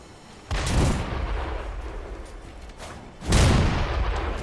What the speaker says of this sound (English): he just shot me at point-blank range for that thing